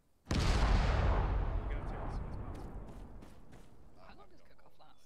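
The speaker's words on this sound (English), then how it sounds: "Yeah, those explosions do give you a homey feeling." Artillery fire and explosions in the video game Arma: one heavy blast hits sharply and then rumbles away in a long decaying roar, with faint crackling and distant pops trailing after.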